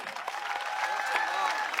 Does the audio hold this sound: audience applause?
yes